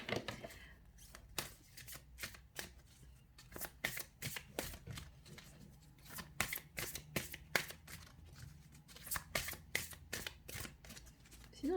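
Tarot cards are shuffled in a steady run of crisp riffling bursts and soft slaps, close and fairly quiet, with no voice over them.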